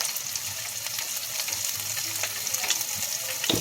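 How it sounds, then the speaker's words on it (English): Onions fry in a pan, a steady close hiss of sizzling with faint crackles and a few light scrapes throughout, and no talking. "We got our onions in the pan cooking."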